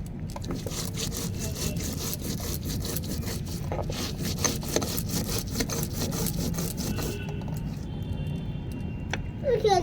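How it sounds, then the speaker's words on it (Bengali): Cumin is ground on a grinding stone for a fish dish, the stone rubbing back and forth in a steady, continuous scraping rhythm close by, with voices talking over it. "তো প্রথমে জিরেটা বাটা হচ্ছে"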